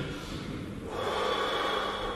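A person takes a deep, audible breath in and out, as at a doctor's check with a stethoscope, a close airy rush that swells partway through.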